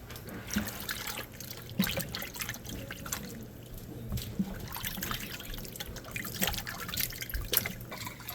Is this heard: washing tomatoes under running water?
yes